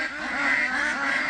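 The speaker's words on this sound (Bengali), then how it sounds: "হাঁসের কি ডাকাডাকি রে?" Ducks quack loudly and continuously at close range, a dense overlapping chorus of nasal calls with no pauses.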